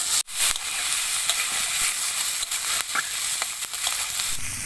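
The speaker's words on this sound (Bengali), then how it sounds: "আদা রসুন, আর এখানে আছে কয়েকটা কাজু বাদাম। সবকিছু আমি একসাথে ভালো করে নাড়াচাড়া করে নেব।" Ginger, garlic and cashew nuts stir-fry in hot oil for a dhaba-style chicken bharta, a steady close sizzle and hiss with scattered scraping stirs, heard alone with no voices.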